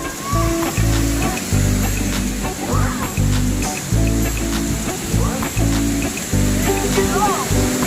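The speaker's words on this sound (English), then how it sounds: "This is top of the waterfall." A rushing waterfall in Karbi Anglong near Diphu, India, recorded from the top of the falls, gives a steady broadband roar under loud, nearly continuous talk.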